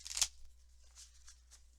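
Tarot cards being shuffled: one quick riffle at the start, then a few faint soft card flicks, quiet and close.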